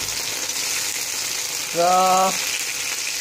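Chicken frying in a pan with water added, a steady broad sizzle throughout, with a short tonal hum or squeak rising briefly in the middle; a single word is spoken.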